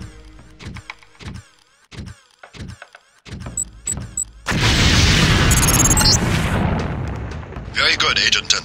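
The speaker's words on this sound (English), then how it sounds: "If you aren't close enough, the lamp will fall to the ground and detonate" A LAM explosive detonating in Deus Ex training. A voice talks first, then a single loud, close blast bursts out and rolls into a long rumbling decay.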